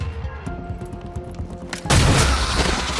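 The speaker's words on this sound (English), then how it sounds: "We'll put our scatter shot down on these three" A scatter shot blast in XCOM: Chimera Squad erupts suddenly as a loud, broad burst of gunfire over quieter game ambience, lingering as a dense rumbling wash.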